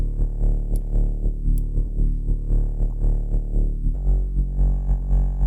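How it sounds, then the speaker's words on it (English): A dirty, growly FM bass synth layer in electronic music follows a chord progression's bass notes, with deep, buzzing low tones pulsing in a steady, loud rhythm and no voices. "Then I've added this bass layer, which sounds like this."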